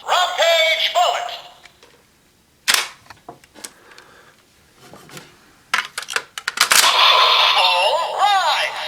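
A DX Shot Riser toy gun with a Rampage Gatling progrise key fitted gives loud electronic sound effects: bright zapping bursts and sharp blasts separated by short quiet gaps, close to the microphone.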